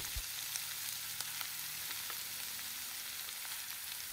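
Steady, soft sizzling of vegetables such as Chinese kale frying in a hot pan, with a few faint clinks and stirring noises, quiet and continuous.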